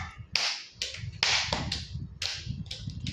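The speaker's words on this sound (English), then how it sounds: "Congrats to me. Clap." Sharp hand claps crack out in a quick, slightly uneven series, several close and bright snaps over a low background murmur.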